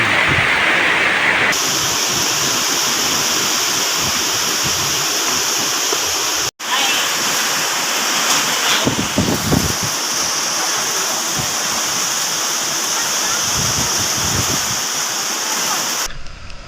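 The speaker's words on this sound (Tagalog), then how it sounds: "sobrang lakas ang hangin" Strong typhoon wind roaring steadily with broadband rushing noise throughout, a brief cut midway, loud and continuous like gusting air over open ground.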